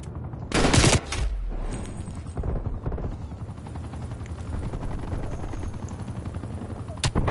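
In a Call of Duty Black Ops Cold War match, a loud rattling burst of gunfire opens, then a helicopter's steady rotor thrum drones on underneath, with a final sharp shot at the end.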